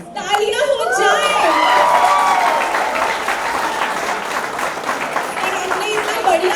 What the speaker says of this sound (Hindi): प्लीज तालियां हो जाए।